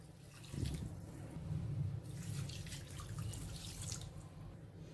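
Water is poured into a pressure cooker holding basmati rice and chicken for biryani, giving a soft, steady splashing flow that swells and eases over several seconds, faint and without talk.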